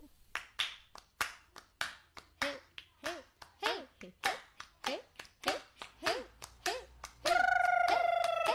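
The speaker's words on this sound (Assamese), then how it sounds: "একেলগে হাত চাপৰি বজাওঁ" Children clap their hands together in a steady rhythm of roughly sixteen sharp, close claps with voices chiming between them, then a sustained sung or shouted note swells at the end.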